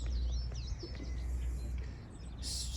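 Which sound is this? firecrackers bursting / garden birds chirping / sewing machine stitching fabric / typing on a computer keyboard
garden birds chirping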